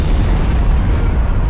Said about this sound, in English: One firefighter on the front line captures the earth-shaking blast.